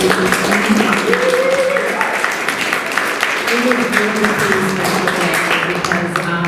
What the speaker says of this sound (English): If we have a round of applause for Abaseh, please.